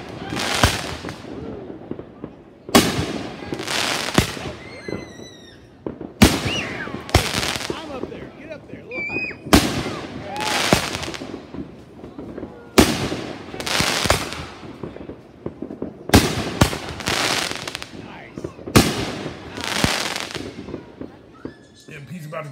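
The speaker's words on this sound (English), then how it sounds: "Watch the fireworks after this." Backyard fireworks go off in a series of sharp, loud bursts and crackling volleys every few seconds, each followed by a fading rumble, with voices between them.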